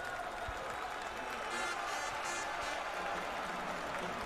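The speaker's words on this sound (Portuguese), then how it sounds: "E você já escuta a torcida do Retrô na arena" Supporters of the Retrô football club roar from the stands of the arena at the start of a Pernambuco state championship match against Central, a steady dense wash of crowd cheering and applause with no single voice standing out.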